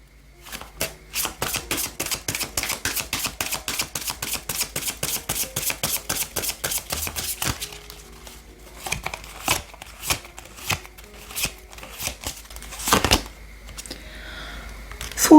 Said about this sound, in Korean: 오라클 카드 보도록 하겠습니다.